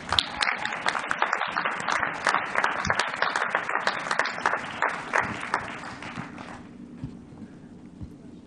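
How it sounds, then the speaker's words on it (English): Audience at a university commencement ceremony applauds, a loud dense patter of clapping that gradually fades and thins out toward the end. "Please give them a round of applause."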